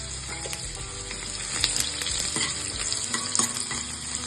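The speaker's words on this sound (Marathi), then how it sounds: "लसूण छान परतून घ्यायचं आहे." Chopped garlic sautéing in a pan for a spinach khichdi, a dense, steady sizzle with scattered spatula scrapes and taps on top, close and fairly loud, no speech.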